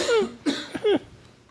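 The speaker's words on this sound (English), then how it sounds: "Every time I take a drink and I start talking, I cough" A short series of three or four close, dry coughs in quick succession, alone without talk.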